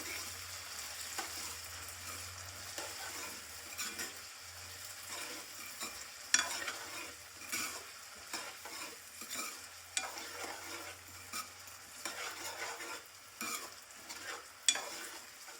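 Chopped tomatoes being stirred into potato poha in a pan, with repeated scraping and clinking strokes over a soft, steady sizzle, close and moderately quiet.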